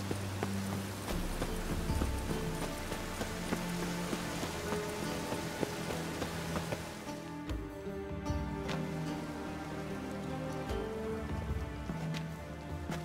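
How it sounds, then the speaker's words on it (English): Steady rain pours over city streets in The Witcher 3, a dense continuous hiss with scattered drips and a low game soundscape beneath, holding even throughout. "The rain will cleanse the city's streets of filth."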